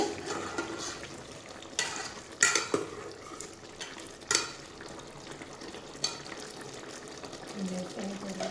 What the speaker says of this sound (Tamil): நல்லா வந்து இது வந்து கொதிக்குது